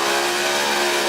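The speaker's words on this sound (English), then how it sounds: "Lots of revs from that engine as well." A supercharged 702-cubic-inch car engine roars at high revs at the Red CentreNATS burnout event, a dense sustained blare filling the short moment without pause.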